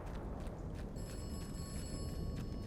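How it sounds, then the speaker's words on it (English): A telephone rings in the Atomfall video game, a thin, sustained electronic ring starting partway through and continuing steadily over a noisy, rumbling ambient background. "Telephone's ringing."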